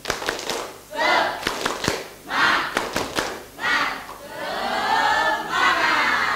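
A school class doing a rhythmic spirit clap in an Indonesian classroom, bursts of group clapping and shouted chants in a patterned rhythm, loud and close, with voices between the claps.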